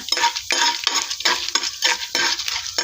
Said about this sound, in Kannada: ಸಾಸಿವೆ ಚಟಪಟ ಅನ್ಬೇಕು, ಕಡಲೆಬೇಳೆ ಹಾಕಬೇಕು.